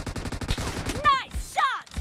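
Sniper and rifle gunshots in PUBG Mobile, with sharp reports set against rapid gunfire in the background and two distinct ringing shots standing out, mixed with game sounds.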